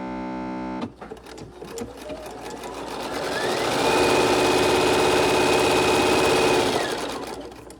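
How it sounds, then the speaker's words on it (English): A sewing machine started with its green go button runs steadily, its fast whirring stitch rising to full speed, holding loud and close for several seconds, then slowing toward the end after an initial hum. "If you hit this green button and you start sewing"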